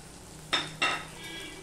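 Spoonfuls of chili, turmeric, coriander and cumin powder with salt go into a pan while cooking a Bengali bhetki fish curry, heard as two quick clinks of a spoon against the pan over a low frying sizzle, close and without talking.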